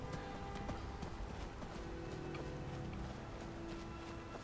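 Steady clip-clop of horse hooves at a trot in the video game Skyrim, fairly faint and continuous, with an ambient game background hum.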